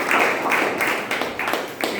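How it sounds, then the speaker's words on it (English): A short burst of clapping from a small group at a Toastmasters club meeting, scattered hand claps overlapping briefly before fading. "Can we have a round of applause?"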